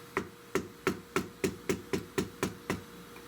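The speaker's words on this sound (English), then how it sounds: "put a screwdriver underneath the back of that thing to pry it out" Regular sharp taps, about ten evenly spaced and close, as a screwdriver is worked under a trigger guard to pry it from the wooden stock of a Spanish-made Richland Arms 20-gauge shotgun.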